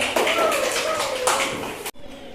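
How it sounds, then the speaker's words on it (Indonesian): Classroom applause for a student group in a Grade 5 mathematics lesson, with dense, loud clapping from many children for nearly two seconds that ends abruptly, mixed with voices. "Tepuk tangan untuk kelompok 1"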